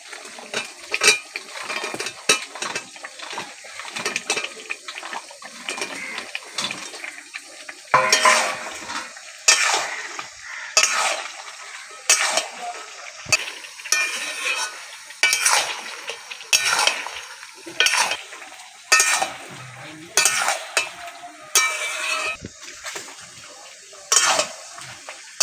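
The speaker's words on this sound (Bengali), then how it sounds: "এবার আমি ভেজে রাখা মাংসগুলো দিয়ে দেবো।" Fried chicken pieces go into a pan for chilli chicken and get stirred, with loud repeated scraping and clanking of a spatula against metal in an irregular rhythm and a light sizzle between strokes.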